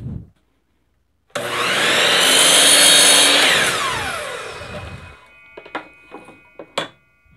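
A miter saw set at 36 degrees cuts through reclaimed wood, a loud steady whine lasting about four seconds that winds down as the blade slows, followed by a few sharp knocks of handling the workpiece.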